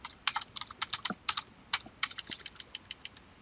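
Rapid typing on a computer keyboard, a close, crisp run of clacking keystrokes in uneven bursts with brief pauses, heard alone without talk.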